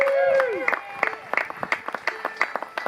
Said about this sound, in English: Would you all give a big round of applause to Pat McGeehan helping us with the speaker there?